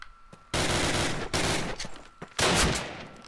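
Loud close bursts of automatic gunfire in the Call of Duty WWII video game, three rapid rattling volleys separated by short pauses, with no talk over them.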